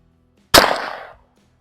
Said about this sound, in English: I am going to shoot single-handed offhand and see what we can do.